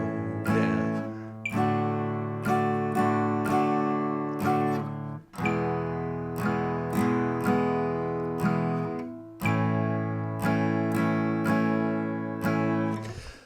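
Strummed acoustic-style guitar chords played in a steady repeating down-down-up-down-down pattern, ringing full and close, with metronome beat accents at 60 bpm and no talking.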